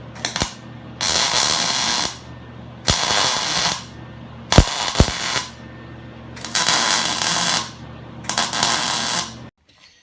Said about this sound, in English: now I'm going to weld this on